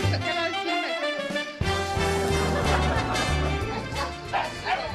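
A small dog barks at a remote-control toy car in a rapid series of close, loud yips and barks, mixed with a few whimpers and music-like tones in the background.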